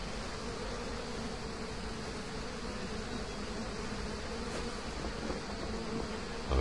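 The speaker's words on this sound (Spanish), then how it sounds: "donde están las abejas que le piquen un poco" Bees buzz in a swamp valley level of the video game Trine 2, a faint, steady insect drone that continues evenly throughout with no talking.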